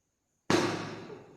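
A single sharp pop as gas from an acid reacting with metal ignites, a sudden burst out of silence that decays over about a second, with no talk.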